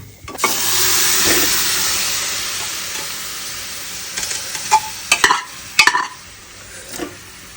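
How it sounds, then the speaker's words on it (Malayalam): Curry stirred in a frying pan: a loud hissing sizzle surges up as ingredients hit the hot oil, then fades under a series of sharp spoon scrapes and clanks against the pan. "അപ്പോൾ എന്തായാലും നമ്മൾ മിക്സ് ചെയ്യാൻ പോണേണ്"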